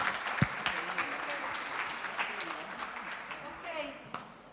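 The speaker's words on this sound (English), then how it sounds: "Big applause for our panel." An audience at the UNWTO Awards Forum applauds its private sector panel, a full hall of continuous clapping with some crowd noise and faint voices mixed in, gradually easing toward the end.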